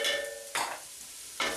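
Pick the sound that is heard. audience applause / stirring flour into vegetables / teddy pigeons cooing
stirring flour into vegetables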